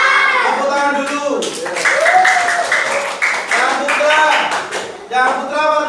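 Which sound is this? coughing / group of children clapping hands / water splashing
group of children clapping hands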